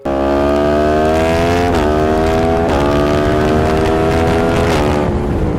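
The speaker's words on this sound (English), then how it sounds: "listen to the dulcet tones of Japan's finest inline 4 soundtrack" A Japanese inline-four naked motorcycle engine revs hard at high pitch, climbing and dropping through a few gear shifts, loud and close.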